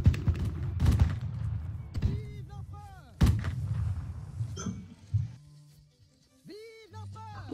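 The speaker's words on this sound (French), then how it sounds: "Feu. Tirez tous une balle." Musket volley fired by a line of soldiers in a Napoleonic-era multiplayer war game, loud booming cracks in a couple of bursts with ragged echoes, under a voice giving orders and other chatter.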